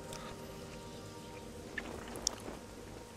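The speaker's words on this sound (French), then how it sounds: "bon il pleut toujours" Steady rain falls in the video game Morrowind near Pelagiad in Vvardenfell, a soft continuous patter with a couple of brief sharper drips, fairly quiet and with no voices.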